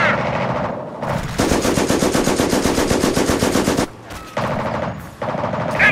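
Sustained machine gun fire during a World War II battle at Arnhem in Company of Heroes, long loud bursts of rapid shots broken by brief pauses near the end.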